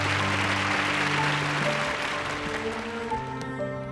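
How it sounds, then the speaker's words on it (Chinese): Studio audience applause on a dating show, a steady wash of clapping that fades slightly toward the end, under sustained musical tones. "我们大家给点掌声好吗？"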